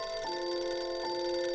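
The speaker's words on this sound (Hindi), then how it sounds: "लो, अभी हम टेलीफोन करने की सोच रहे थे, पता नहीं किसका फोन आ गया।" A telephone rings with a steady electronic warble that shifts pitch twice, continuous and fairly loud with no voices over it.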